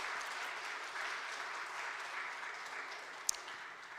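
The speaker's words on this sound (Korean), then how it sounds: "우리 박수로 환영하겠습니다" A church congregation applauds to welcome a newly introduced assistant pastor during a Friday worship service, a steady, soft wash of clapping heard from a distance and lasting throughout, with one sharp tap near the end.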